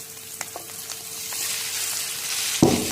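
Boiled pasta with peas fries in a pan, a soft steady sizzle that swells gradually, with a few light clicks early and a sharper clink near the end.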